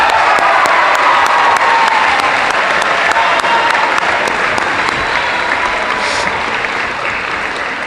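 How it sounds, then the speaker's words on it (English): A school athletic assembly crowd applauds a sportsmanship award winner with sustained, thick clapping and a few cheers, the sound holding strong before easing slightly toward the end. "Please applaud Paul the Machine"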